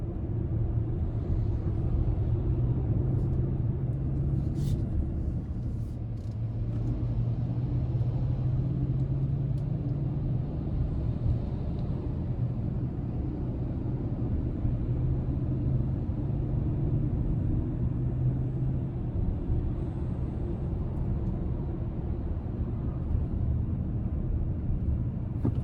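Steady 2026 Lincoln Nautilus Premiere II AWD 2.0T engine at medium throttle while driving, a continuous low drone and rumble with subtle pitch shifts, heard from inside the cabin with no talking.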